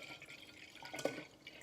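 Kefir poured into a swing-top IKEA bottle, a faint liquid trickle and drip that peaks briefly midway, with low background hiss and no talking.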